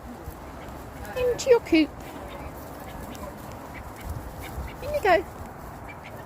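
Ducks quacking in short bursts around a farmyard coop as they are herded inside alongside geese, two clusters of calls under a person's calm spoken coaxing.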